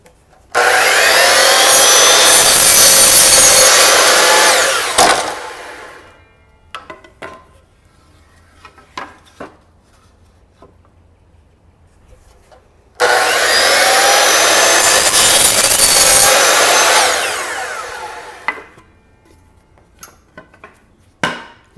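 Wooden boards cut to length against a stop block with a power saw: two loud cuts of about five seconds each, separated by a long quiet gap holding faint knocks and handling sounds, with no talking.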